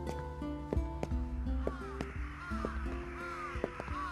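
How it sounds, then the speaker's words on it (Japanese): Crows caw several times in the grounds of a large, well-kept estate garden, their calls rising over a sustained bed of orchestral music in a radio drama. "カラスが多いな。"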